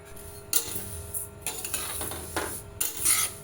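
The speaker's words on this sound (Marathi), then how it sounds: "ते चटचट असं आवाज यायला लागलाय, तुम्ही ऐकू शकता" Chutney ingredients roast in a pan over a low gas flame, crackling softly while a utensil stirs and scrapes against the pan in irregular bursts, close and fairly quiet with no speech.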